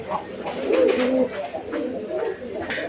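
Pigeons of a fancy show breed cooing up close at a pigeon market, a few soft rolling coos over a low murmur of background activity.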